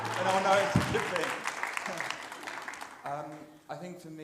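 Audience applause at a devotional celebration event at a temple hall, a dense wash of clapping that swells and then fades, with voices and a few louder tones breaking through near the end.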